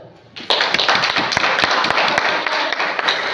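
Classroom clapping during a teacher training session at a primary school, a sudden burst of close, sharp claps starting after a brief quiet moment and continuing loudly and unevenly to the end.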